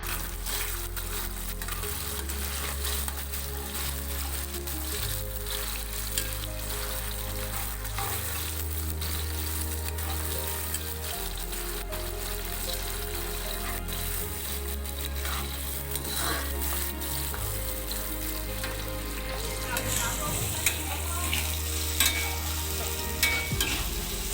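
Loud, steady sizzling of a tomato paste mixture for tomato rice frying in a pan, with repeated scraping and clattering as it is stirred throughout.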